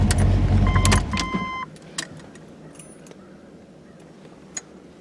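A car engine runs close by and then cuts off about a second in, followed by near silence broken by a few faint clicks and small interior sounds.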